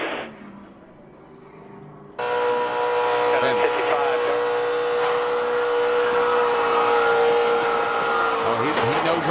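Tire letting go on an ARCA race car during a crash, a loud sustained screech over roaring engine noise after a quieter start, with an announcer talking over it.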